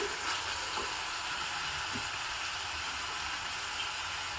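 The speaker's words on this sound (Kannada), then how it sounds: "ನೋಡಿ ಎಷ್ಟು ಬೇಗ ಗ್ರೀನ್ ಪೀಸ್ ಚೆನ್ನಾಗಿ ಫ್ರೈ ಆಯಿತು" Green peas sizzling and frying in a pan as part of a South Indian rice dish, a steady close broadband hiss that runs the whole time with faint stirring scrapes underneath.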